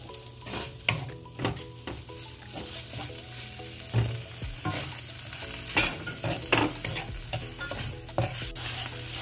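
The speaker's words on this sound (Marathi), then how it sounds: "दोन मिनटं खवा आपण भाजलेला आहे, तर त्याच्यात हे आपण पाऊण वाटी साखर घालतो." Khoa roasting with sugar in a pan on medium gas for fried modak, with repeated scraping spoon strokes and clinks against the pan over a soft continuous sizzle, close and rhythmic, no speech.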